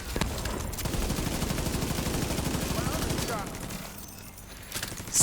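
Rapid bursts of video-game gunfire firing shock rounds, a dense rattling stream for about three seconds that cuts off, followed by quieter game sounds and a sharp hit at the end.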